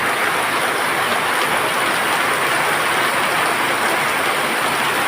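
Heavy rain pours down in a steady, dense roar with no pauses, loud and close, drumming evenly on surfaces.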